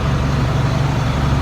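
Old 1983 tractor with 36,100 hours and a rusted cab runs with a loud, steady low engine rumble, close and continuous.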